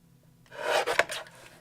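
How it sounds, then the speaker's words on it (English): A card panel's edge is trimmed with a short, dry scraping rasp lasting under a second, close and fairly quiet after a brief silent lead-in. "And I'm going to trim a bit off the side here."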